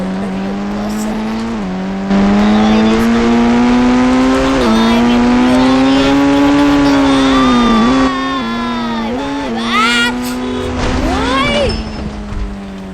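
A BMW engine in the mobile game Indian Bike Driving 3D whines loudly and steadily, its pitch climbing and dropping with gear changes, with tire squeals and scrapes near the end.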